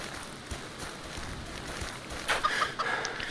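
A chicken clucking in the video game CHKN, a short burst of clucks rising near the end over a steady hiss of game ambience.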